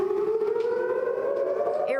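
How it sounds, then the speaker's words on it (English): Air raid sirens wailing during an Iranian drone and missile attack, a loud sustained civil-defense tone holding steady and then dipping briefly at the end, with no voices over it. "Air raid sirens sounding as most of the missiles have been intercepted"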